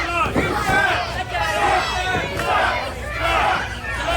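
Wrestling crowd at ASW Coal Fest, a loud crowd cheering and shouting in swelling waves with a commentator talking over it.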